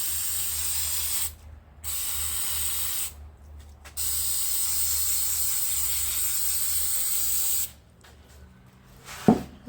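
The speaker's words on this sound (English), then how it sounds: "So I'll neutralise it with the brake cleaner and that should stop it from working." Aerosol brake cleaner sprays onto brake parts and backing plates in several long hissing bursts with short pauses between them, loud and close with no talking.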